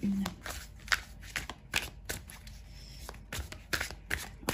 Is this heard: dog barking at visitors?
no